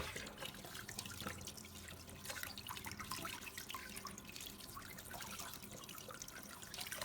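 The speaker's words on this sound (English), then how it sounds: "If possible, rinse with running water." Sweet potatoes rinsed under a running kitchen tap: a steady, close stream of water splashing and trickling, with faint drips and sink sounds throughout and no talking.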